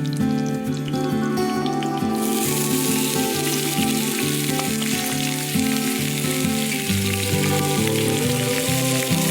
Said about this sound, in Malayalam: വെളിച്ചെണ്ണ നന്നായി ചൂടായതിനു ശേഷം അതിലേക്ക് സവാള